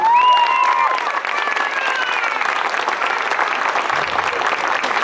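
Sustained applause from a crowd at a rock concert in Lima, loud and steady throughout with a brief whistle-like tone near the start.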